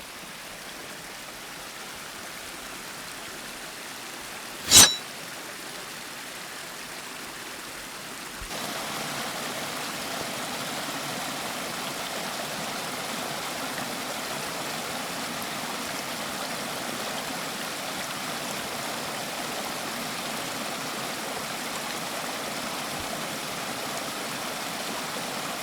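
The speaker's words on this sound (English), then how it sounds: "This next little waterfall is pretty cool" A small waterfall on a rocky trail rushes steadily, a soft constant splashing that grows fuller partway through, with one sharp knock early on.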